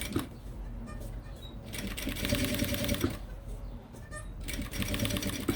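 A sewing machine stitches piping onto a Kipling-style fabric pouch, its close, rapid needle chatter running in bursts with short slowdowns between them, and no one talking.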